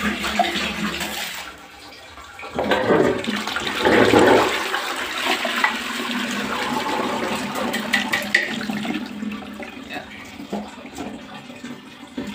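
A household toilet flushes close by with a loud surging rush that settles into a long gurgling refill trickle, heard without speech.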